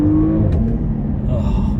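A 2020 Porsche Panamera 4 E-Hybrid accelerates with a loud, close, deep engine rumble and a rising tone, heard from inside the car with no talk.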